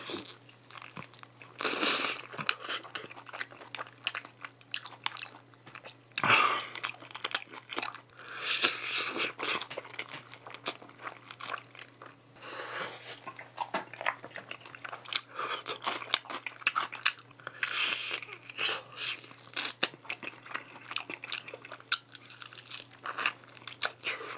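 Crunchy gochu-mayo fried chicken topped with jalapeños being eaten up close, with loud crisp bites and repeated crunching chews over about twenty seconds, while a faint steady hum runs underneath.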